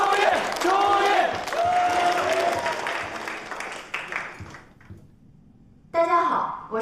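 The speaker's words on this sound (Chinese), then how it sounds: "有请计算机系1班朱韵同学给大家带来脱口秀，大家掌声欢迎！" Audience applause welcoming a stand-up comedy performer: a dense burst of clapping and crowd noise that gradually thins and fades, then a voice begins speaking near the end.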